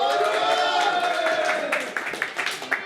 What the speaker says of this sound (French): un tonnerre d'applaudissements pour Johan